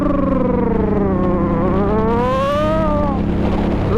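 An Indian Scout S motorcycle ridden along empty desert roads on the Valley of Fire loop near Las Vegas, its loud, close engine droning steadily as the revs rise and fall smoothly throughout.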